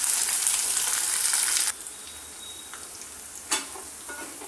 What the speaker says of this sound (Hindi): अभी मैं इसको फ्राई करके निकालूंगी और फिर मैं मसाले डालूंगी। तो 1 मिनट के लिए बस करूंगी फ्राई।